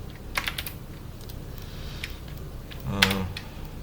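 A few sharp computer keyboard presses sound in a quiet room during work in Blender: a couple of quick taps early, one near the middle, and a louder press toward the end, with no talking.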